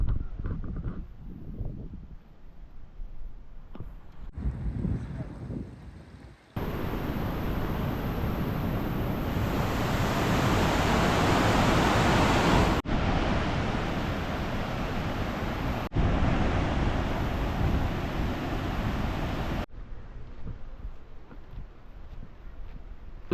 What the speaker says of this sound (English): we are walking alongside the Bow River here